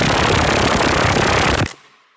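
Cordless impact wrench snugging lug nuts on an LMTV or 5-ton military truck combat wheel, one loud, rapid hammering burst lasting about a second and a half that stops abruptly, close up with no talk.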